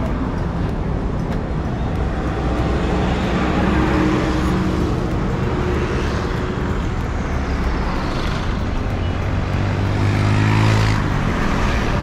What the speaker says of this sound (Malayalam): എത്ര വണ്ടി പോന്നേ